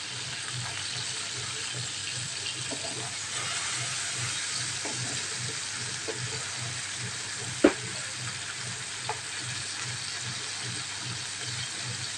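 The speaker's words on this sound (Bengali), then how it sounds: "দুই পিঠ মাছ আমি উল্টিয়ে পাল্টিয়ে হালকা ভেজে নিয়েছি" Steady, dense sizzling of small fish frying in hot oil, continuous and fairly loud, with a couple of faint clinks partway through.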